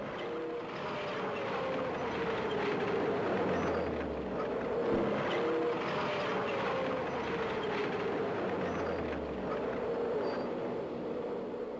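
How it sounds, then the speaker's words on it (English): A Strv 103 S turretless battle tank moving forward, giving a steady, continuous low engine drone and track rumble throughout, loud and close with no gaps and no talking. "The tank can then move forward again"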